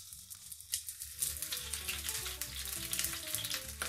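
Pork knuckles sear in a saucepan with a loud, steady sizzle and crackle that swells after the first second, with occasional soft knocks as the pieces are turned, and no talking.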